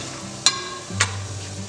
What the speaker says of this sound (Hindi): तो खड़े मसाले यहाँ पे अच्छे तरीके से भून के हो गए हैं।